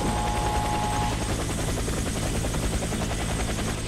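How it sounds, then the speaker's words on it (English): Helicopter in the Warface co-op mission arriving for extraction, a steady loud rotor thrum with a faint high whine, holding constant throughout with no talk. "Helicopter is inbound."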